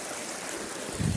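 Water from a stream flows steadily along a village irrigation channel, making a soft, continuous rush with a brief gurgle near the end.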